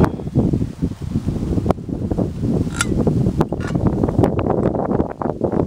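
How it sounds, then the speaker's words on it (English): Breezy wind buffets an outdoor spot where a white-gas camp stove is being set up, a steady loud rumbling rush with gusts and a few sharp clicks and rustles, close to the microphone. "It's a little bit breezy today"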